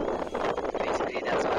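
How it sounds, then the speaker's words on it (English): Gusty wind buffets the microphone outdoors, a steady low rumble with fluctuating bursts throughout, while people talk over it. "It's pretty windy here."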